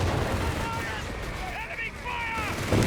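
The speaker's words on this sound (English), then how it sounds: "Comes all sorts of artillery on that MG." Artillery shells and gunfire pounding a machine-gun position in a Company of Heroes 3 battle, a dense, continuous rumble of blasts and shots with a heavier burst at the end, mixed with other game sounds.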